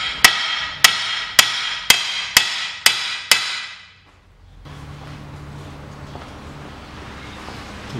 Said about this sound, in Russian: выбиваю кирном тупым.